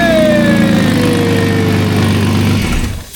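A Ford Falcon XH fitted with a swapped-in Barra engine runs loud and close with a steady roar and a slowly falling whine, then cuts out abruptly near the end.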